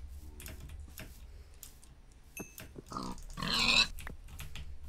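Pigs in the Minecraft video game grunt and squeal in a few short bursts amid sharp clicking and attack sounds, the loudest squeal near the end, without any talking.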